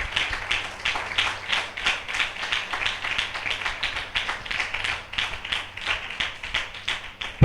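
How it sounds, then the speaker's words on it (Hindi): Church congregation claps in a steady, rhythmic patter of many hands, moderately loud and continuous without voices over it. "हम जोरदार तालियों से उनका स्वागत करें।"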